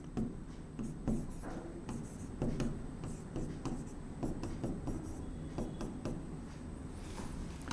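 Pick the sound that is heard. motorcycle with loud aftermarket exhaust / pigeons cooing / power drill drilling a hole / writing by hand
writing by hand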